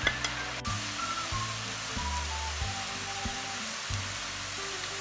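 Chopped shallots sizzle steadily in hot oil over high heat as they are stirred, a constant dense frying hiss with occasional utensil knocks and low thumps, fairly faint and close.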